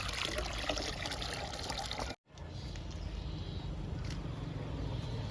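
Onion liquid fertilizer, onion paste mixed into water, trickles and pours steadily onto flowering garden plants, close and continuous, broken by one brief dropout partway through.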